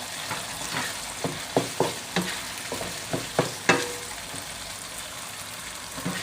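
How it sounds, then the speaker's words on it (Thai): Minced pork marinated in light soy sauce sizzles in a pan as it is stir-fried, a constant crackling bed broken by roughly ten clacks and scrapes of a spatula at an uneven rhythm, with no voices. "ใส่หมูบดลงไปค่ะ หมูบดที่แม่จะหมัก ซีอิ๊วขาวไปบ้างนิดหน่อยแล้วนะคะ"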